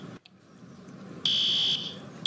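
Fire alarm in a school, a shrill piercing electronic tone that sounds loud for about half a second, then briefly resumes at the very end over a low background hum.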